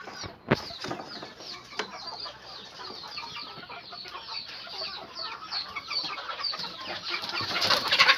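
Chickens clucking on a poultry farm while workers catch the birds: a continuous dense chorus of close clucks and squawks with occasional wing flaps, growing louder toward the end.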